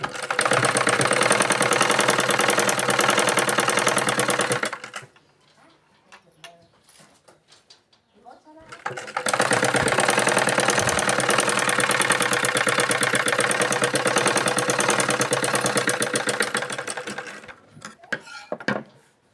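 A sewing machine stitching a blouse runs in two long, steady bursts of fast, rhythmic mechanical chattering, loud and close, separated by a quiet pause with faint handling noises.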